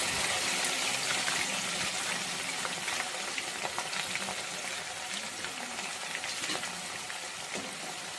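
Garlic sizzles and fries in hot oil for a dry mango pickle, a steady crackling hiss with occasional stirring clicks, close and continuous throughout.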